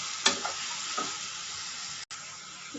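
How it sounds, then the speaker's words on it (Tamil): Onion, tomato and ginger garlic paste fry with cumin, coriander and chilli powders and garam masala for a mutton gravy, giving a close, steady sizzle with a few soft scraping strokes and one brief dropout. "அதையும் போட்டு நல்லா வதக்கிக்கலாம்."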